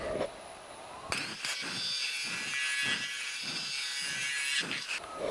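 The back of a woodturning gouge rubs across a wooden salt shaker spinning on a lathe, giving a rhythmic series of soft scraping swishes over a steady machine whine.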